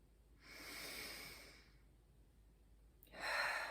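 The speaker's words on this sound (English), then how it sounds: "I see lots of new singers coming in breathing quite high and into the chest like this." A singer's high, shallow inhale drawn into the chest, shown as a demonstration: two close, breathy intakes of air, the first long and steady, the second short and sharper, with no speech.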